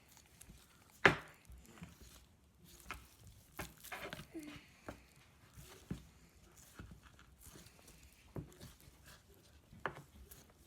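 Deer leg being butchered into steaks, with scattered cuts, scrapes and knife taps on a board in an uneven rhythm, one sharper knock near the start, close and moderately quiet.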